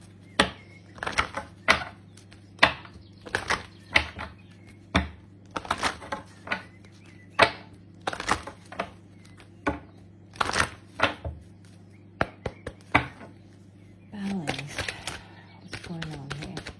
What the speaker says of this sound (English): I choose to take my time to shuffle